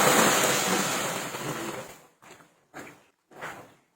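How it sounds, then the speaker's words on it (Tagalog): Water pours into a cooking pot holding shrimp heads in a steady gush for about two seconds, followed by a few short splashes and pours, close by. "Halu-haluin lang ito at saka tayo maglagay dito ng tubig"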